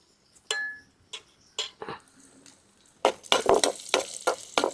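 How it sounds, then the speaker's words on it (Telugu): Cashews and raisins frying in hot ghee for sorakaya carrot payasam, scattered spatula ticks and taps, then a denser run of crackling sizzle and stirring clatter, close and moderately loud. "నెయ్యి వేడెక్కిందండి ఇప్పుడు జీడిపప్పు వేసేసుకుందాం"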